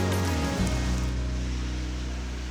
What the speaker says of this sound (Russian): Ну просто дождь. Каждый день дождь.